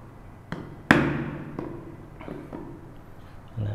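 A chisel struck with a mallet while cutting a square mortise in a wooden tissue box lid: a handful of separate sharp knocks, one much louder, spaced irregularly and heard close with no talk.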